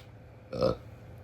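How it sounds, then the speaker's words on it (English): A single short, soft burp breaks a quiet pause, brief and close, with nobody speaking. "Had a burping fit."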